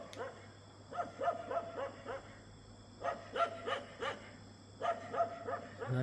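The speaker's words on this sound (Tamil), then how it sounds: "நாய் என்னன்னு தெரில, அந்த பக்கம் குலைச்சிக்கிட்டே இருக்கு." A dog barks repeatedly in the distance at night in a forest at Mavanalla, with faint barks coming in clusters over a steady background hum.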